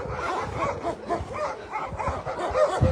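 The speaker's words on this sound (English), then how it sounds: "Dogs have really got a lot to say for themselves today." Several dogs at an animal shelter bark continuously in overlapping, excited yaps and woofs, close by and fairly loud, with a few whiny yips mixed in.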